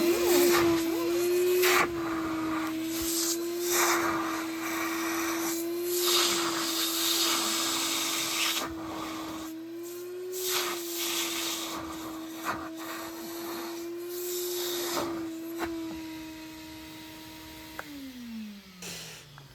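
A carpet cleaner's suction runs continuously while extracting cat urine from carpet, giving a steady motor drone with rough hissing and rubbing bursts as the wand passes over the pile, before winding down at the end.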